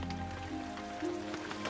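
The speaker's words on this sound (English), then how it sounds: "Then suddenly fat raindrops began to fall from the sky." Rain sound effect in a storytelling podcast: a soft, steady patter of raindrops on a surface, fairly faint and unbroken, with low hum beneath and no talking.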